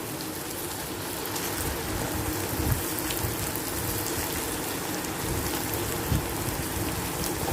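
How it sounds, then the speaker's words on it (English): Onions and a bay leaf saute in a pan for egg curry, giving a steady, dense sizzling hiss throughout with a couple of faint soft knocks, no speech. "So till then you saute the onions."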